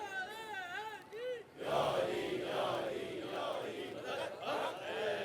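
A crowd at a majlis gathering in Nishter Park chants slogans loudly together, after a single voice calls out a rising, wavering cry; the massed voices swell and pulse in a continuous roar.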